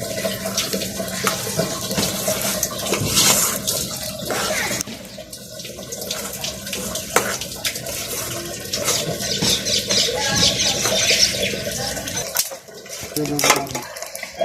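Hot water poured onto maize flour in a bowl while making makki ki roti in a village kitchen, with splashing, clinking vessel and stirring sounds running steadily, close and fairly loud, with no talking.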